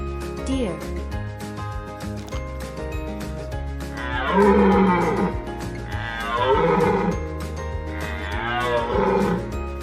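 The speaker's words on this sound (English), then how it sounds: "Deer." A deer calls three times in drawn-out, bellowing bursts over steady background music, each call loud and close with short pauses between.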